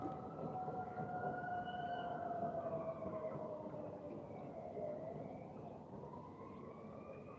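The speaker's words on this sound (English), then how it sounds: "No, it's a police car." A police car siren wails from a distance, rising and falling in slow sweeps over a rumbling outdoor backdrop while shark fishing, faint and continuous throughout.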